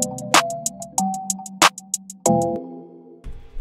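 Simple hi-hat pattern in an FL Studio trap beat with no effect applied, steady crisp ticks over sparse bell-like melodic notes, dry and close with no voices.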